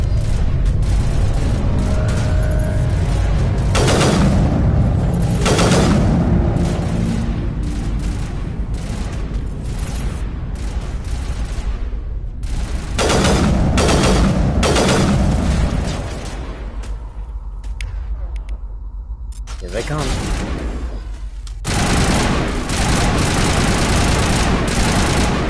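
Heavy gunfire from a Mass Effect video game, sniper rifle shots and other booming weapon fire in loud repeated bursts and blasts, with short quieter gaps between, no talking.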